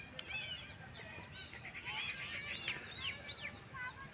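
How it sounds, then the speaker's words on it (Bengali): Several birds chirp and call in quick, overlapping phrases from treetops in a botanical garden, over a steady outdoor hiss, fairly distant and moderately faint. "কোনো গাছের মাথায় বসে পাখিরা ডাকছে"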